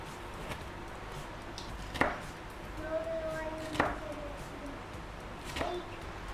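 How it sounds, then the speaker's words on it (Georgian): Knife chopping bell pepper on a cutting board, a few sharp, separate cuts spaced a couple of seconds apart, fairly close, with faint background hum and no talk. "ჭრით ბულგარულს."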